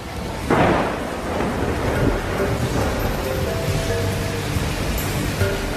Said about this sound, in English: A torrential downpour